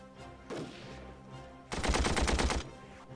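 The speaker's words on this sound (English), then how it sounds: "the machine gun is firing" Machine gun fire in the Armored Brigade war game: a loud rapid burst of shots lasting about a second, following a quieter stretch of distant battle noise.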